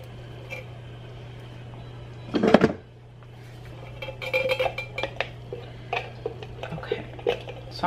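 A spoon scrapes and clinks against a pan while three cans of beans are stirred, with a loud clatter early on followed by repeated light metallic taps over a steady low hum, and a voice speaking now and then.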